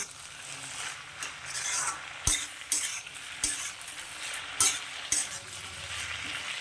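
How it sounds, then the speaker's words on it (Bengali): Fish heads fry in hot oil in a pan, a continuous close sizzle broken by repeated sharp scrapes and clacks of a spatula stirring them, with no voices. "এবার আমি এটাকে গ্যাসটাকে বাড়িয়ে একটু ভালো করে ভাজা ভাজা করে নেব"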